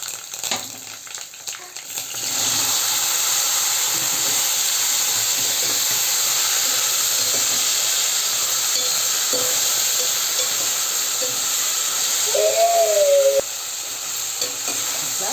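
Curry leaves hit hot oil for a bitter gourd curry, and a loud, steady sizzle and hiss jumps in after a quieter start. It holds constant, with a brief higher tone near the end.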